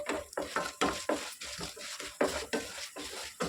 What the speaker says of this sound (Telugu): ఒక స్పూన్ జీలకర్ర ఫ్రై చేసుకోవాలి